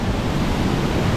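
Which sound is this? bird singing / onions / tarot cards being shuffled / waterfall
waterfall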